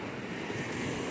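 Ocean waves wash onto the beach at Canoa Quebrada, Ceará, as a steady, dense broadband roar mixed with wind buffeting the microphone, with no voices.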